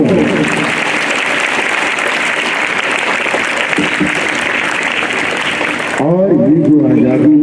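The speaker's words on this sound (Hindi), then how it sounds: "उन अमर शहीद भगत सिंह के लिए जोरदार ताली" Children at an Independence Day school gathering clap loudly and steadily for the martyr Bhagat Singh, a dense sustained applause that stops abruptly near the end, where a voice begins speaking.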